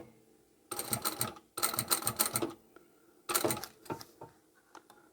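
Sewing machine backstitching at the end of a seam on a leather or vinyl taco-style pouch: three loud, close bursts of rapid mechanical stitching separated by brief pauses, then a few short clicks and taps.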